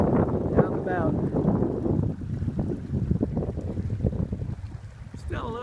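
Wind blows on a mountain trail in Rocky Mountain National Park, making a continuous, close, low buffeting rumble against the microphone, with faint voices underneath.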